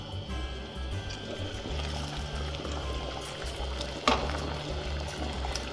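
Water at a rolling boil in a pot holding ten eggs with vinegar added, a low, steady bubbling rumble heard close up, with one brief clink partway through.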